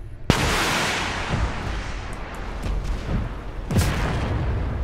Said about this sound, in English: he is also shooting missiles at me